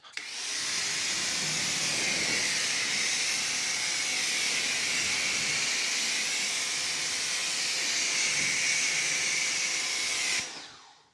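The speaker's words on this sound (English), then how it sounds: "Let's show how that foam gets rinsed down with the stock 40 degree nozzle that comes with it" A Ryobi high-flow pressure washer rinses foam off a car through its stock 40 degree nozzle, a steady loud hissing spray that runs for about ten seconds before cutting off abruptly.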